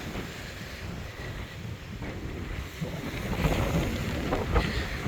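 Steady wind buffeting the microphone with low rumbling gusts at an oceanfront resort in Cozumel, growing a bit louder toward the end, with a faint wash of surf or water behind it.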